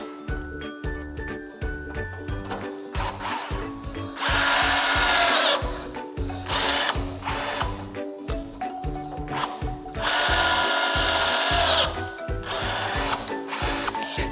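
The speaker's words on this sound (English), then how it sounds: "These are self-tapping screws that you don't have to drill a pilot hole for, and you get this adapter for your drill." Power drill driving self-tapping screws into a trailer, several bursts of whirring motor with louder grinding stretches between pauses and clicks of handling.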